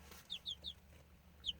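Chickens cluck in a farm yard, four short, faint clucks in quick succession with one more a moment later, set against a quiet, low outdoor background.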